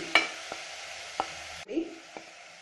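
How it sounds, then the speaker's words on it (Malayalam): Onions, green peas and spices being sautéed in a pan, a steady soft sizzle with a few sharp clinks of a spoon stirring against the pan, close and without talk. "ഇതും ഒരു മിനിറ്റ് ഇട്ട് നന്നായിട്ട് വഴറ്റണം"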